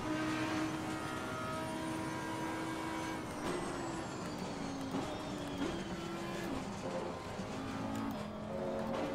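Audi R8 LMS GT4 race car in Assetto Corsa Competizione at Monza, its engine droning steadily up close with rising and falling pitch as gears shift, loud and continuous throughout without talk.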